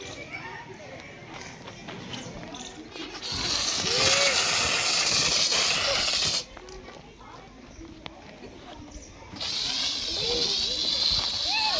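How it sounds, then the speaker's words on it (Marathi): Water is poured onto a fire during a school fire-safety demonstration, producing bursts of loud hissing steam and splashing in two long surges, with people talking nearby. "अशा प्रकारे आपण या ठिकाणी आग विझवू शकतो"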